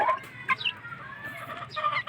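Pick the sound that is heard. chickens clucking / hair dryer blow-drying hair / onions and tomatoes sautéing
chickens clucking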